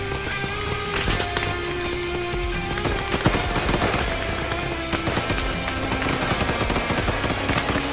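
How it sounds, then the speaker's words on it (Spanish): Rapid bursts of gunfire in the video game ArmA 3 crackle continuously, with sharp shots and rattling volleys layered over a busy background of other noises. "Oigo disparos."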